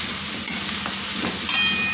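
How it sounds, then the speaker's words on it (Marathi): Masala frying in oil for anda bhurji crackles with a dense, continuous sizzle, close and loud, with light stirring scrapes throughout. "आपल्याला याप्रमाणे तेल सुटेपर्यंत सगळं तळून घ्यायचं आहे।"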